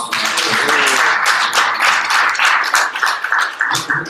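An audience at a startup pitch event breaks into a round of applause, dense clapping from many people that stays loud throughout with a few voices underneath.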